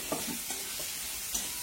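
Harbhara usal cooks in hot oil while a spoon stirs it, a quiet steady sizzle broken by a few soft scraping strokes in a home kitchen.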